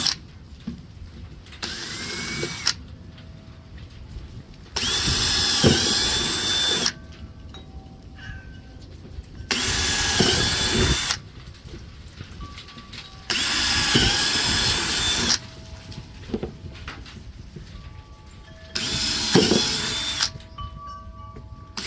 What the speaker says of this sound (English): have him drill the holes in it for me